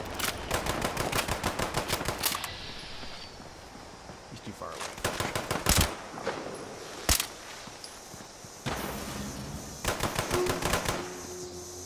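Rapid bursts of automatic gunfire in the Fallout 76 video game, several short volleys separated by brief pauses, loud and close, with a few single sharp shots in between.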